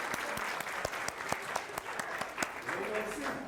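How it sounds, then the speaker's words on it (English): Dense audience applause fills a college student-government event hall, steady clapping with a few louder sharp claps and some crowd voices mixed in. "Let's give him a round of applause."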